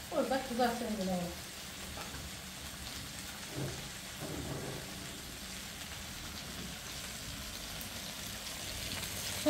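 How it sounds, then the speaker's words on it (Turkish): Steady crackling sizzle of food frying on a wood-burning stove, a continuous close hiss with a few louder pops and a brief voice murmur near the start. "Burada kızartayım bunu."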